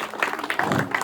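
A crowd claps at a school aid distribution event at a basic school, a brief burst of scattered applause rising and holding steady, with no talk over it.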